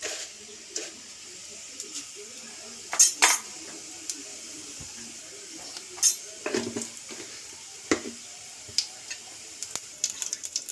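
Cumin seeds crackle in hot oil in a home kitchen, a faint sizzle broken by scattered utensil clinks and stirring taps, with brief bursts of spitting near the middle and end.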